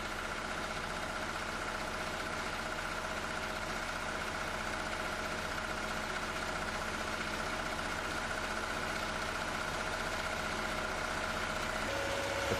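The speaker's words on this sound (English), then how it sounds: "The clutch can then be disengaged and the auxiliary engine turned off." Auxiliary engine on a steam boiler unit idling steadily, a constant mechanical drone with a steady hum and vibration, no voices, shifting slightly in tone near the end.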